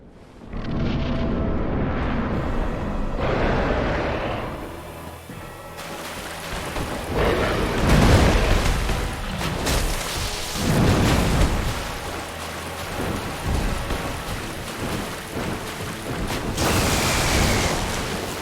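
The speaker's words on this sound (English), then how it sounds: "The lightning actually is conductive in the water, so it'll hit in an AoE whenever it strikes the surface." Thunderous lightning strikes crash onto water in Dark Souls, loud booming rumbles and crackles layered over a constant rain-like roar, with several heavy bursts swelling and fading through a stormy game scene.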